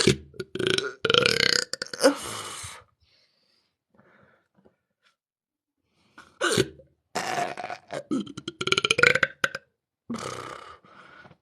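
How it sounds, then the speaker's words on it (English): A person with the hiccups burps repeatedly: loud, close, throaty bursts come in two clusters separated by a quiet pause. "it makes me want to burp, so I just fucking do it."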